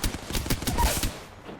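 Rapid burst of Hemlock rifle gunfire from Apex Legends, several quick sharp reports in a tight rhythmic string, close and fairly loud, fading out at the end.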